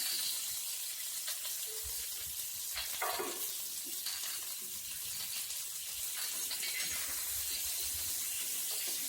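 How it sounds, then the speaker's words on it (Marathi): Onions fry in hot oil in a pan, giving a steady, bright sizzle with occasional stirring scrapes, close and continuous at a low volume with no talking. "तेल टाकून आहे ना सगळं चांगलं व्यवस्थित भाजून घ्यायचं. आधी कांदा टाकायचा"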